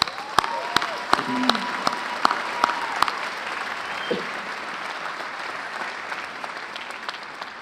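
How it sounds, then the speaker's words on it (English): An audience applauds graduates at a commencement ceremony, a steady sustained wash of many hands clapping with a few sharper individual claps standing out, continuing evenly throughout. "So let's give them a round of applause, please."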